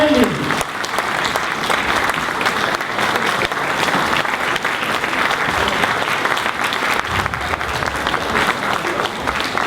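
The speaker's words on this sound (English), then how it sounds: "Please rise and give yourselves a big round of applause." A standing audience at a CHABAD gathering gives a big, sustained round of applause, dense steady clapping throughout with voices faintly mixed in.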